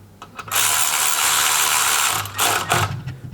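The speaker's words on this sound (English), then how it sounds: "I'm going to use an electric ratchet" A close, loud electric ratchet with a 17mm socket whirs in one sustained burst while tightening clutch bolts on an AA KRX S2 clutch kit, followed by two shorter bursts.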